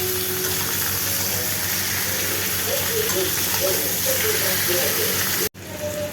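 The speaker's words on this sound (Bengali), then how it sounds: "এবার আমি চিকেনটা দিয়ে হালকা একটু ভেজে নেব।" Chicken frying in a pan, a loud continuous sizzle and steamy hiss close up, with faint low voice-like murmurs underneath, cutting off abruptly near the end.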